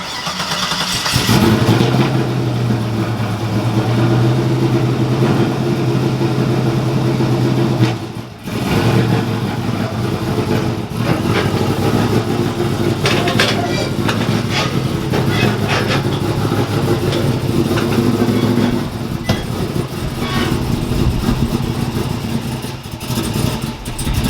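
A GMC Sierra pickup with a freshly installed exhaust starts and runs close by, a loud, steady low rumble with a brief dip and a few throttle blips, and a voice now and then under the engine.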